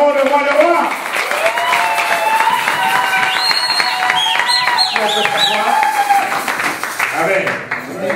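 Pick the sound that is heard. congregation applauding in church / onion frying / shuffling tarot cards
congregation applauding in church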